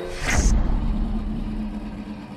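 A lightweight Porsche race car engine surges near the start, a sharp rising burst that quickly drops into a lower steady rumble and fades.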